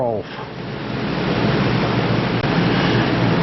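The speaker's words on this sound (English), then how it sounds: "if you hear a lot of wind noises, I have a fan to this side and I have an AC unit there" Steady broadband whoosh of a fan running beside an AC unit indoors, a constant close airy roar with no change in level and no voices.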